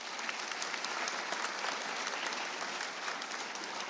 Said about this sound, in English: How about one more round of applause for Mitchell and Rachel?